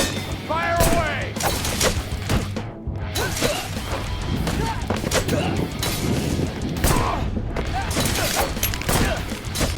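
Rapid gunfire and crashing impacts from the action game Wanted: Dead, dense and loud throughout with whooshes and bursts, a voice talking over the combat.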